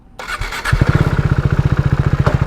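A KTM RC390 motorcycle with a Yoshimura Alpha-T slip-on exhaust fires up and settles into a loud, throaty, pulsing idle with a quick rev, close by.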